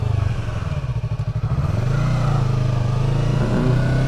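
A 2015 Yamaha R3 motorcycle engine on a test ride hums steadily and close, with a choppy, throbbing stretch early on before settling into an even drone.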